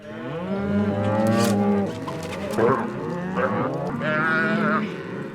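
Cattle in a herd being gathered into a temporary corral during a Montana roundup and branding moo loudly and close by, several long overlapping bellows in succession.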